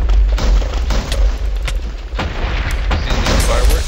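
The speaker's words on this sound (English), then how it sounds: "See the fireworks?" Fireworks burst in a Minecraft TNT Wizards match on the Hypixel server: a rapid, irregular series of loud booms and cracks that overlap densely throughout, close and forceful.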